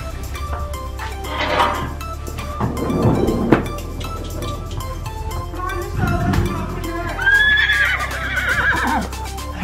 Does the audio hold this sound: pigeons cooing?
no